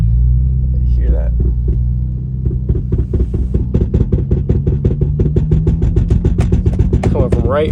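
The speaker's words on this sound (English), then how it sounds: "if that's what your car sounds like, it's most likely a carrier bearing" A BMW E92 335i with a broken carrier bearing accelerating, its engine rumble climbing while a rapid rhythmic knocking from underneath quickens steadily, loud and close, with a brief voice early on.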